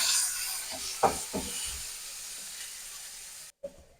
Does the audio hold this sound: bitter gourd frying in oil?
yes